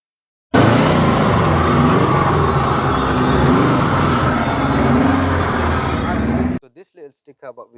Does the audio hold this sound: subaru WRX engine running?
yes